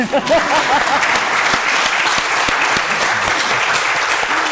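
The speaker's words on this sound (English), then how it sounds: "So 힘차게 let's 박수 big applause for all of us." A gathered audience at an honor ceremony claps loudly and continuously, a dense, steady wave of applause with a brief voice at the start.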